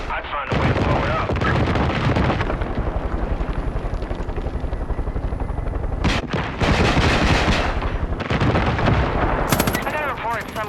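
Far Cry 5 combat as a hollow statue is blown up: dense bursts of gunfire and booming explosions layered over a continuous loud roar, intense and unbroken throughout.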